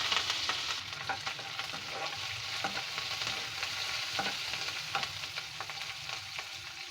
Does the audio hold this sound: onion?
yes